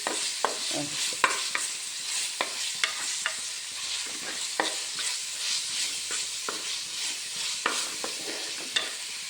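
Pork roasting in oil in a clay pan for pork varattiyathu: a steady close sizzle broken by repeated sharp scrapes and knocks of a stirring spoon, with no talk.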